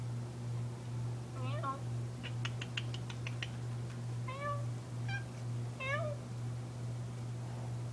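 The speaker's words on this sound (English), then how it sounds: "Hi, kitty kitty. Meow." A cat meows several times in short, rising calls over a steady low electrical hum, with a soft trill-like chirping between meows.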